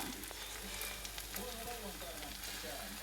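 Batter for a giant pancake sizzles and crackles steadily in a giant pan at an outdoor summer market in Finland, a faint continuous frying hiss with a soft voice murmuring in the background.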